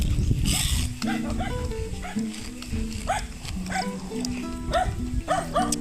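A dog barks repeatedly in short yips at close range while a person talks over it and outdoor noise fills the background.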